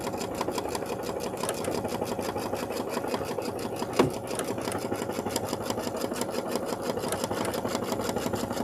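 A quiet sewing machine runs continuously while stitching 6-inch quilt blocks, a soft, even, rapid ticking rhythm close by, with a single sharp click partway through and no talking.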